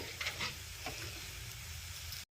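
Tempering with salt frying in oil for curd rice, a short burst of steady close sizzling with a few stirring scrapes, cutting off abruptly.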